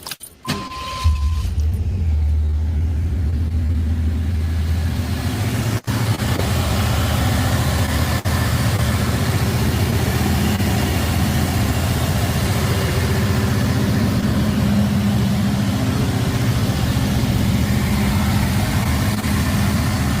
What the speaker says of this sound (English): We'll just hear like some engine noise when they start it up